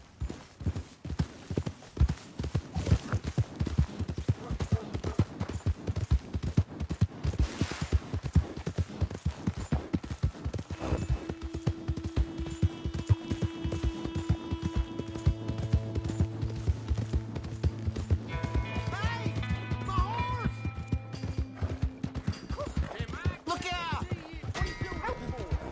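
A horse's hooves clip-clop at a brisk, rhythmic gallop in Red Dead Redemption 2, close and steady throughout, with game music tones and a brief voice layered over the later part.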